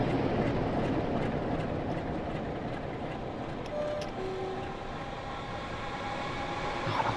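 A train rolls past steadily on the Glasgow Cathcart Circle line in Train Sim World 2, its wheels and carriages making a continuous broad rumble with faint clicking at the rail joints. The sound stays even and fairly loud for the whole stretch.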